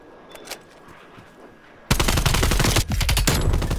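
Automatic gunfire in the Call of Duty Black Ops Cold War video game opens after a quiet stretch with a loud, sustained rattling burst of rapid shots, a brief gap and then more firing.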